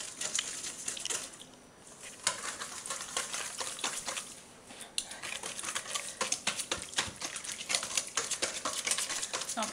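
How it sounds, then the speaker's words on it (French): Wet ingredients for vegan oat and raisin cookies are beaten vigorously with a hand whisk into a creamy texture, a rapid clatter of metal against the bowl with brief pauses, close and steady. "Moi, personnellement, j'utilise un fouet."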